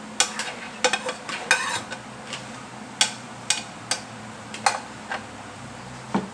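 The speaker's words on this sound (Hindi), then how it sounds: "इसके बाद हम डालेंगे प्याज हमने जो ब्राउन करके रखे हुए थे।" Browned onions stirred into a pot of chicken korma with yogurt, giving a soft sizzle under repeated sharp spoon knocks and scrapes against the pot, close and fairly loud.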